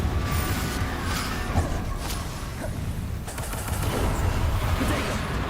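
Spell-casting effects for Confringo and Depulso in the video game Hogwarts Legacy, a string of crackling blasts and whooshing bursts over continuous game noise, fairly loud with scattered sharp impacts.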